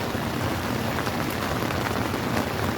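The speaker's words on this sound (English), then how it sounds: "it's raining a lot harder than it was this morning." Heavy rain drums steadily on a tent during a dark evening storm, a dense, continuous close hiss with no talk.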